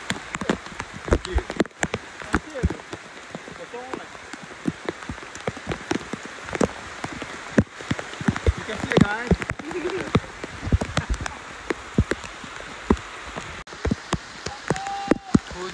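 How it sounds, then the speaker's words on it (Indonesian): Steady rain pours over a river on a net-fishing trip, with dense close patter and frequent sharp drop hits throughout, and faint vocal sounds now and then. "Hujan on guys, hujan on."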